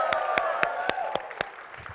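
An audience at a Sonic the Hedgehog 25th anniversary panel at SXSW claps and cheers in steady applause, with sharp rhythmic claps standing out close to the microphone over a continuous crowd wash.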